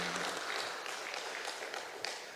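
A church congregation at a Sunday afternoon service breaks into applause, a brief wash of many hands clapping that fades over about two seconds.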